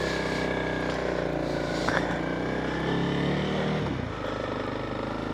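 A 2024 Honda CRF300L motorcycle riding off on its first ride: a steady, close engine drone with a slight rise in pitch as it pulls away, then easing off near the end.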